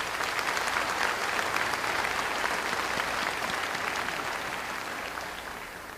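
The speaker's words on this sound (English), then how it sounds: "Let's give all of those folks a round of applause." Continuous applause from the audience at a fall university commencement, a dense even patter of many hands that holds steady and then fades slightly toward the end.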